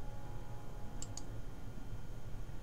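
Two quick, faint mouse clicks come close together as design options are selected in dental design software, over a steady background hiss.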